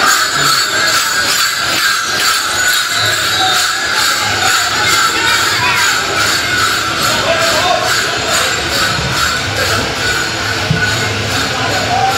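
A crowded local train runs toward Dum Dum station in Kolkata, its steady rumble and rattling wagons droning loudly from inside the carriage, with faint passenger chatter mixed into the continuous noise.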